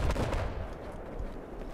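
A grenade blast and gunfire in the Battlefield 4 video game: a dense, booming burst of shots and rumble that fades over a couple of seconds.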